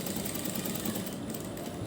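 A sewing machine stitching the boat neck of a blouse, a quiet, steady, fast mechanical whirr running evenly without pause.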